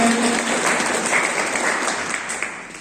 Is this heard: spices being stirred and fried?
no